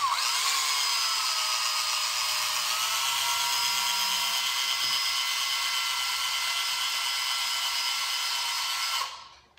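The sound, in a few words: power drill drilling into kayak nose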